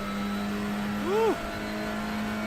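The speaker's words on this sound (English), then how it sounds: "Turbo is pretty loud. Yeah. Oh yeah. Has a little blow-off valve." A turbocharged race car in iRacing gives a short engine rev with a rising and falling whine, over a steady drone.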